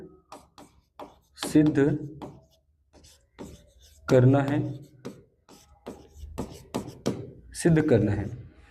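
A geometry proof of the Thales theorem for a tenth-grade maths lesson written out by hand, short scratchy writing strokes heard in the gaps between stretches of speech.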